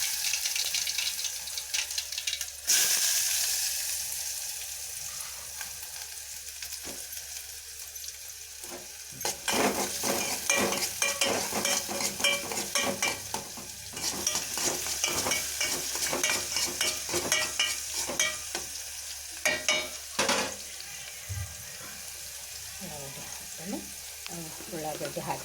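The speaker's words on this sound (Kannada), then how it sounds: "ಉಳ್ಳಾಗಡ್ಡಿ ಹಾಕಿದೆ. ಈಗ ಚಲೋತ್ನಾಗ ಒಂದು ಸ್ವಲ್ಪ ಎಣ್ಣೆಗೆ ಫ್ರೈ ಆಗ್ತವೆ." Onions fry in oil after a mustard seed and cumin tempering, giving a steady sizzle broken by bursts of scraping stirs and clattering ladle strokes, close and fairly loud, with a voice heard faintly at times.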